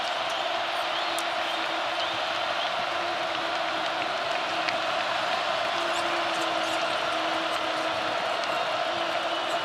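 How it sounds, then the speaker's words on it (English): A basketball arena crowd against Kansas roars and cheers continuously at a steady, loud level, with sneaker squeaks and faint commentary voices underneath. "here comes the crowd"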